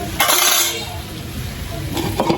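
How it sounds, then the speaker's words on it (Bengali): A metal lid clinks down onto a cooking pot of fish, two bright clatters a couple of seconds apart over a faint sizzle. "এবার আমি ঢাকনাটা ঢেকে দেবো"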